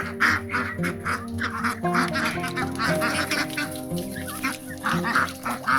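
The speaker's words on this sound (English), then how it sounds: "4 new little ducks, kind of stirring up the whole flock." A flock of black Cayuga ducks quacks and honks constantly nearby, overlapping loud calls in rapid bursts with a steady low murmur of birds underneath.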